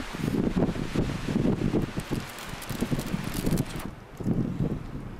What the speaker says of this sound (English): Ooh, here comes the wind.